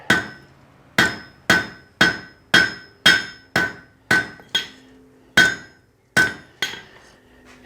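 A hammer strikes hot steel while a meat hook's taper is forged and its edges knocked down, giving about a dozen loud, close, ringing metallic blows at a steady pace of roughly one per half second, each followed by a brief fading ring.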